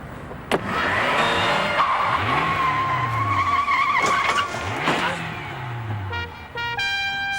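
A car revs and accelerates with loud tire squeals sweeping up and down across several seconds, close by, a horn-like tone sounding near the end, with brief voices mixed in.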